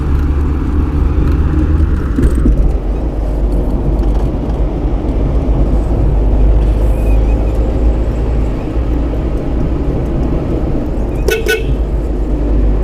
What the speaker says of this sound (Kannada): ಈ ಘಾಟಲ್ಲಿ ವಾಹನ ಚಲಾವಣೆ ಮಾಡೋದು ಕೂಡ ಒಂದು ಖುಷಿ